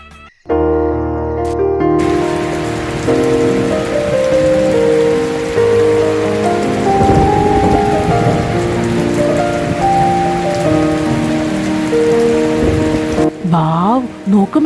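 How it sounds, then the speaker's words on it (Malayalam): Heavy rain pours steadily on a surface, a dense continuous hiss with a musical backing playing over it throughout. "മഴ."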